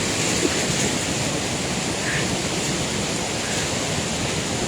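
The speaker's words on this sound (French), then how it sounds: "Et voilà, les cascades du Flumen." Snowmelt-swollen Flumen waterfalls at Saint-Claude pour with a steady, loud, close broadband roar that never lets up, with no voices over it.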